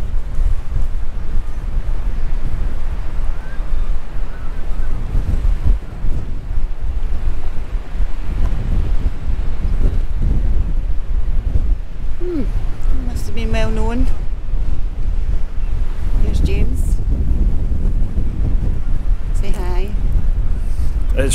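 Strong wind buffets the microphone on a hilly South Ayrshire coast, a loud, constant roar lasting the whole stretch, with a few brief voices breaking through partway.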